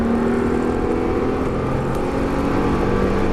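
A car engine drones loudly and steadily at full throttle during a driving course at Issoire, a constant strained roar close up with no pauses.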